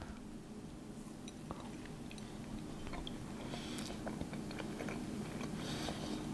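Soft, close biting and chewing of a chocolate-iced, coconut-coated Lamington sponge cake, with quiet moist squishes and a few faint crunchy clicks over a low background hum.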